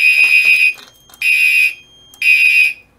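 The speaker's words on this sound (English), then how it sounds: "So normally if my fire alarm goes off" A Notifier AFP-200 fire alarm panel sounds three loud, piercing electronic alarm tones, each lasting about half a second, separated by short silent gaps, close and alone.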